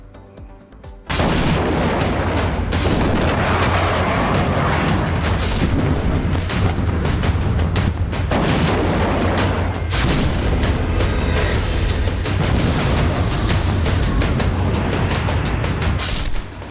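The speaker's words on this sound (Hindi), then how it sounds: "लेबनान के अल जबोर हाइट्स पर धमाका।" Repeated heavy booms of air strike explosions on Lebanon's Al Jabour heights punctuate a continuous deep, loud rumble that starts abruptly and continues to the end.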